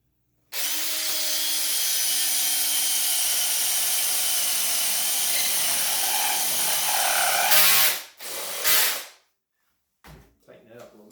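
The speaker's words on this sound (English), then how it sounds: "So what I'm going to try to do is just use a paddle bit and go in here by hand." A hand-held power drill with a paddle bit bores into a wooden candlestick, a loud continuous whirring grind lasting several seconds before stopping, followed by a couple of brief bursts and then quiet.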